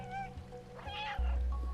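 A cat in the video game Stray meows in a few short, tonal calls over quiet ambient game sound, followed by a deeper rumble near the end, with a voice murmuring faintly underneath.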